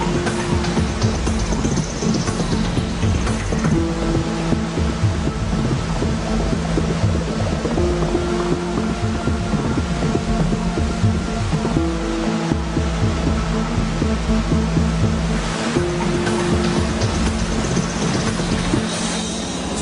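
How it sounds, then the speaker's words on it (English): Powerful water jets spraying inside a dredger's hopper to flush out a cargo of heavy clay on a large ocean suction dredger; a loud, steady rushing wash with a machinery drone underneath, continuous throughout with no talk. "powerful water jets are sprayed inside the hopper, causing the cargo of heavy clay to flow towards the openings"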